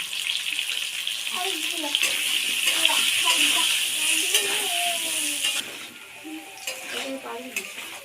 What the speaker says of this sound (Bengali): একটু লবণ, একটু হলুদ দিয়ে আলুগুলো ভেজে নেব।